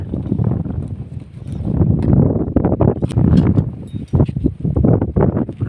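Strong monsoon wind buffeting the microphone in gusts, a loud rumbling roar that rises and falls throughout.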